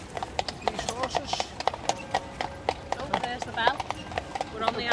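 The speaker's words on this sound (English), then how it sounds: "And we've got these Dalmatian horses." Horse hooves clip-clopping on cobbles as a horse-drawn carriage moves through Kraków's town centre, a steady close rhythmic series of sharp knocks with people talking.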